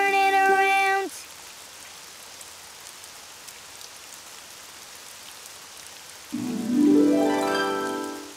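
Steady cartoon rain falls outside as a soft, even hiss through the middle stretch, framed by brief bright tonal passages at the start and end.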